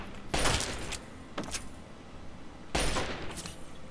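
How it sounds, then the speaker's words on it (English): Submachine gun fire in the Fallout 3 video game, heard as two separate loud, crackling bursts of rapid shots a couple of seconds apart, with a brief weaker burst between them. "Nobody can withstand this SMG."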